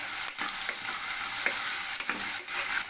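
Onion, green chilli and potato pieces frying in a pan are stirred, a steady close sizzle broken by several scraping spoon strokes; no one talks.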